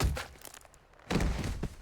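In Metal Gear Solid 3: Snake Eater, blows land on a body with dull, wet squelching thuds, two heavy impacts about a second apart amid low muffled rumble, without speech.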